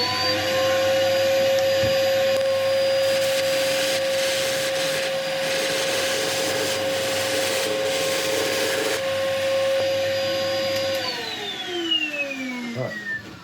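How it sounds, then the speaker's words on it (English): A woodturning lathe spins a yellowheart blank while a ball gouge makes a supported cut: a steady motor whine with a rough cutting hiss, then the motor winds down and the pitch falls near the end. "I'm going to see if I can just work my way around and do a supported cut with the ball gouge."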